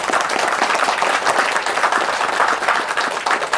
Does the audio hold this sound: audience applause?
yes